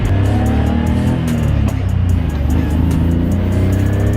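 A BMW E30 with a manual gearbox driving through a neighborhood, its engine a loud, steady hum with rapid ticking as it runs in a low gear.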